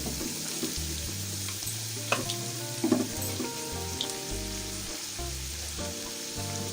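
Cabbage, capsicum and carrot go into a pan of sizzling chicken for a dhaba-style mixed vegetable sabzi, with a steady frying hiss broken by a few sharp clatters and stirring knocks close by.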